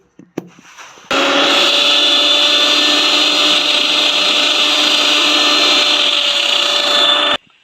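After a few small clicks, a mixer grinder roars loud and steady for about six seconds as it grinds green chillies and salt for chammanthi chutney, then cuts off abruptly.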